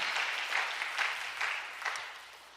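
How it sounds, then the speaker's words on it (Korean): Thursday worship service congregation in a church gives a round of applause for the worship team, a soft, distant wash of many hands clapping that fades gently toward the end. "목요 찬양팀에게 박수 한번 하겠습니다."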